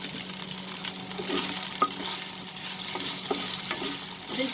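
Green chilies sautéing with chicken in a hot pan over high flame, a continuous sizzle with occasional scrapes and stirring clinks, close and steady throughout.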